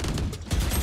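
Sustained gunfire from the video game Valorant, a dense loud rattle of shots that never drops out, with a heavier burst in the second half.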